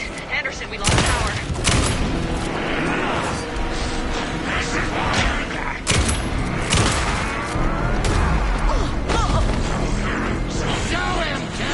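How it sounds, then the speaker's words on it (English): Gunfire in the video game Alan Wake 2, a loud, dense fusillade of shots mixed with mechanical clatter and crashes running almost continuously, with game voices talking over it. "Anderson, pin him down with gunfire for me to get the light on him."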